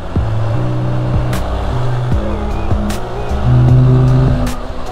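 A car on a road gives a loud engine drone whose pitch climbs and drops in stepped shifts like gear changes, swelling slightly toward the end as it goes by.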